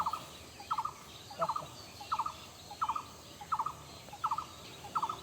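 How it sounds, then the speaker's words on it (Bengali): Birds call repeatedly across open fields of spinach and rice plants, about eight short chattering bursts in a steady rhythm, moderately distant over a low rural background, with no one talking. "কত রকমের পাখির ডাক শুনছি"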